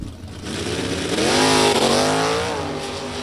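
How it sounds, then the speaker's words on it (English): A Superstock drag racing car, a 1987 Pontiac Firebird with a 350 Chevy engine, launches off the line at a national event, its engine roaring up loud and rising in pitch before easing off, heard at a distance across the track. "watching the way these Superstock cars are launching"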